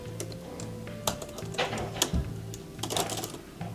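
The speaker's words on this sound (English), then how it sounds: "I'm gonna do a little keyboard smash." Fingers mash rapidly and irregularly on a computer keyboard, giving clustered bursts of clacking keystrokes over a steady low background hum, moderately close and without speech.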